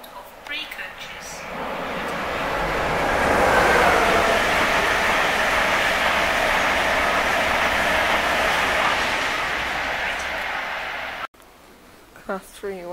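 A three-coach Great Northern Class 313 train on the Moorgate service passes through Hadley Wood station, a loud broad rumble swelling over several seconds then holding steady before cutting off, with station announcements heard before and after.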